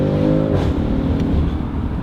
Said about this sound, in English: For you people who like the pops and cracks, this is definitely the exhaust system for you.